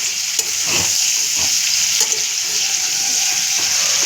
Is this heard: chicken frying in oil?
yes